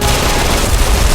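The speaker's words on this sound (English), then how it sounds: "Quatermain, shoot the ceiling!" A rapid burst of gunfire aimed at a ceiling in the Deadfall Adventures video game, loud and close, a dense continuous volley with no pauses.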